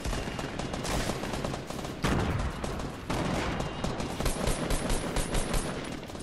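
Dense, continuous gunfire from the video game Fortnite, with rapid overlapping shots and heavy blasts filling the whole stretch, loud and close throughout.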